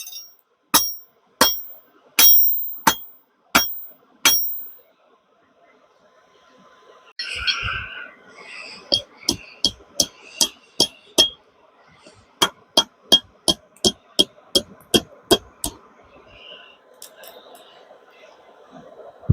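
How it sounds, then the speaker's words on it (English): A hammer forges hot steel on an anvil, with sharp ringing strikes in quick rhythmic bursts. A short pause with a muffled voice sits between the bursts, then the strikes resume in several fast runs, close and loud. "sometimes you get your heat just right when you're hammer forging"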